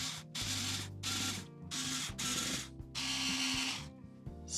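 Screws being driven into the speaker grill of a JBL Tuner 2 radio, repeated whirring bursts of a small powered screwdriver separated by short pauses.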